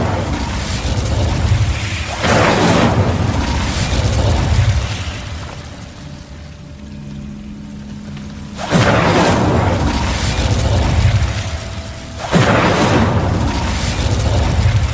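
Fire spell casts in the Hogwarts Legacy video game on PS4 Pro, heard as three loud bursting booms with roaring whooshes, separated by a quieter lull with a faint steady hum.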